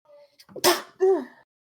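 A single sharp sneeze, close and fairly loud, preceded by a short breathy intake, with a quiet room around it.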